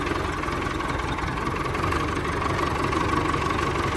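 A Massey Ferguson 1250 tractor engine runs at a steady idle with a rough, slightly knocking diesel chug and vibration, constant and close throughout with no talking.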